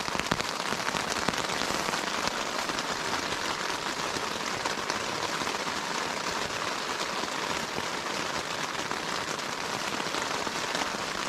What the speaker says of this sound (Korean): 이렇게 비가 지금 부딪히고 있는데요